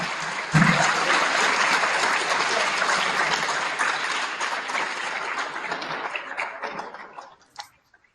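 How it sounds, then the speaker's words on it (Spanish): A university lecture audience bursts into applause for the lecturer, loud and dense from the start, then gradually thins into scattered claps and a few final claps before fading out. "Un aplauso para el conferenciante."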